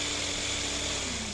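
A sharp step drill bit grinds steadily into a silver coin as part of ring making, a close, continuous whirring buzz that holds at an even level throughout with no pauses.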